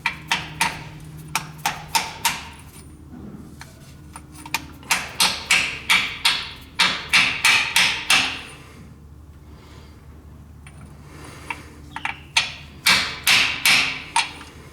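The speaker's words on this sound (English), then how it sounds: "I'm going to take my hammer." Sharp hammer taps driving a part into place, in irregular bursts of quick close strikes separated by pauses, with soft breathing and handling noise between them.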